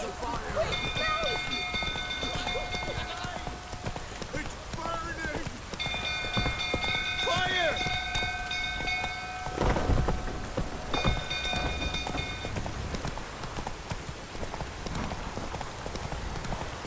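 Geralt's horse Roach gallops through heavy rain in the game The Witcher 3: Wild Hunt, rhythmic hoofbeats under a steady downpour with a roll of thunder, plus music and occasional voices.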